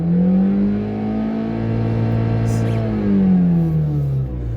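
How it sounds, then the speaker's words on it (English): Car engine revved while parked in a driveway: a steady, loud idle rises into a smooth climbing rev, then eases back down near the end, with no voices. "if I rev up the engine"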